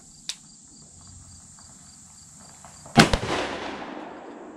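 A shotgun fires a single Sterling Big Game slug outdoors at a range: one loud, sharp report with a brief echoing tail, preceded by a quiet stretch with a steady high insect-like whine in the background.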